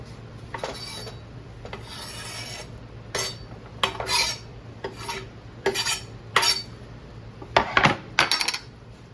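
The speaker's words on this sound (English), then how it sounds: "I'm going to go ahead and cut up my jalapenos for my spicy beans" A knife slices through jalapeno peppers on a cutting board in a series of short, crisp scraping strokes, irregularly spaced and close up, over a faint background hum.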